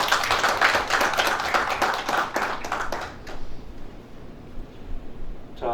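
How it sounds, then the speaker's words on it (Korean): An audience at a televised political debate, a presidential primary candidate forum, applauds to welcome a guest: dense, loud clapping for about three seconds that thins out and fades into near silence. "오늘 정말 금쪽 같은 시간인데 어려운 걸음을 해주신 우리 정세균 전 총리 후보자를 박수로 모시겠습니다"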